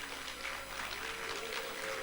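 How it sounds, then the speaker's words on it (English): Audience applause at a 2022 graduation ceremony, a dense, even patter of many hands clapping, somewhat distant and fairly soft, with a faint steady tone underneath. "Please give her a round of applause."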